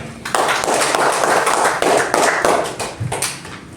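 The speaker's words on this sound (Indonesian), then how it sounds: "Tepuk tangan untuk Melati." A class claps for a student named Melati after her presentation, an energetic burst of close, loud hand clapping that runs steadily for a few seconds before thinning out at the end.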